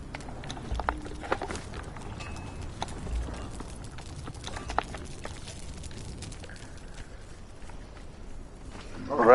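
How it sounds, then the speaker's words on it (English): Horse hooves clip-clopping at a walk while riding in the video game Conan Exiles, on the Isle of Siptah map, an uneven series of close thuds with no one speaking. "So I will use Mr. Horse again"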